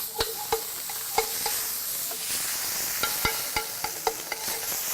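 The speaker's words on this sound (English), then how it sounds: "Now that's sauteing, huh?" Smart Balance spread sizzles and sputters in a hot pan beside freshly cooked risotto, a steady frying hiss broken by sharp crackling pops and the clink of stirring at irregular intervals, close and moderately loud, with no talking.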